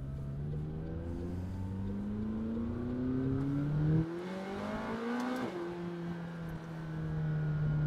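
A McLaren sports car cruising on a city expressway, heard from inside as a steady engine drone whose pitch climbs under acceleration, drops with a shift, then rises again.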